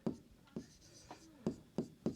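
A pen or chalk taps and strokes on a writing surface while a math solution is worked out. The strokes come as about six short, soft, evenly spaced marks, close but quiet, with no talk during them.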